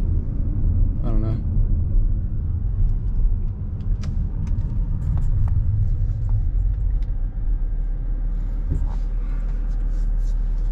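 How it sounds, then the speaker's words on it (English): A 2015 Audi A7 is driving with a steady, loud low engine and road rumble that persists throughout, while people talk inside the car over it. "See, I drive an Audi A7 2015."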